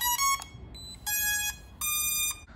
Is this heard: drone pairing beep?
yes